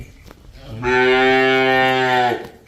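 A cow on a dairy farm with cattle for sale gives a single long, loud, close moo lasting over a second, rising and then fading, with quiet ambient noise before and after.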